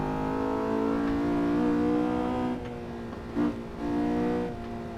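A Honda S2K on a track accelerates onto the first straight, its engine note loud and close, rising steadily before easing off briefly, with a short blip near the end.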